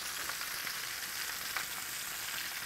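Steady, even sizzling of venison rouladen meat rolls frying in a hot pan, continuous and fairly close, with no talking.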